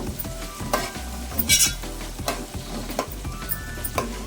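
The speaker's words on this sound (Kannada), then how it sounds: "ತಕ್ಕ ಥರ ಫ್ರೈ ಮಾಡಬೇಕು ಯಾವಾಗಲೂ ಬಿರಿಯಾನಿಗೆ ಈರುಳ್ಳಿ ಫುಲ್ ಕೆಂಪು ಬ್ರೌನಿಶ್ ಬರಬೇಕು" Onions frying in oil for Mysore mutton biryani crackle close up with a steady sizzle, punctuated by repeated scraping stirs and clinks of a spatula against the pan, without any voices.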